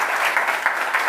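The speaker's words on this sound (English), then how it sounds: "We've got a big round of applause first for Dan for that." Sustained applause from an audience at a talk on Monument Valley 2 and premium mobile games, a dense even wash of clapping with no pauses, loud and close throughout.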